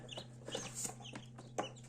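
Newly hatched chicks inside an opened incubator give short, soft peeps and chirps in scattered bursts over a constant low electrical hum, close but faint.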